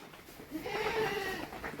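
A farm goat lets out a single drawn-out bleat, fairly faint and close, over quiet background noise on a goat-rearing farm.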